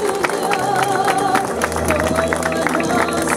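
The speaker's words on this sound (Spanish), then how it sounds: "Fuertes esos aplausos a la Santísima Virgen de los Dolores." Applause rises from a crowd at a religious procession for the Virgin of Sorrows, with steady clapping mixed with crowd chatter and a voice over the top, alongside music.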